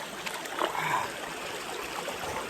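Natural hot spring water streams steadily into a creek among stones, a close, continuous rushing trickle with faint splashes, no voices.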